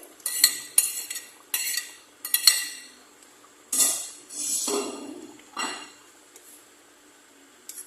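A metal spoon stirs ginataan of banana, sago and cassava in a pot, giving a run of bright clinks and scrapes against the sides, irregular and close, with short pauses between strokes.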